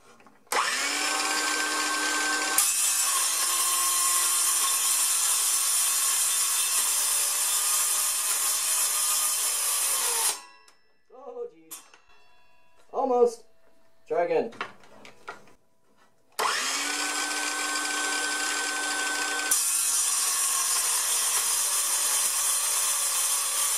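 A battery-powered tool running through a battery adapter cuts a metal bar, likely mild steel or aluminum, with a loud, sustained grinding whine. It comes in two long stretches, and a person talks during the pause between them.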